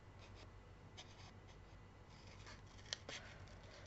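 Scissors cut paper for a homemade pop-up card with a few faint, soft snips and rustles, heard close but quiet over a steady low hum, with no voices.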